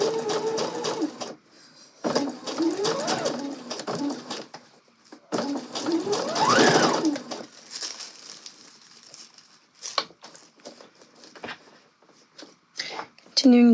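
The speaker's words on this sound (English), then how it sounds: "as I'm sewing, I'm just kind of pulling the skirt smooth, making sure there's no weird bumps or anything in the gathers." A sewing machine stitches the gathered skirt of an asymmetrical angled dress in bursts, its motor whirring loud and close, with rustling fabric between runs and a voice talking over it.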